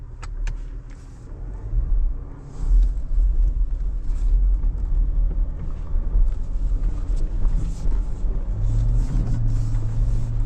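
A 2025 Ford Everest Tremor climbing an off-road slope in neutral-engaged rear diff lock mode, its engine a loud, close, steady low rumble that swells as the wheels work for grip, with no talk.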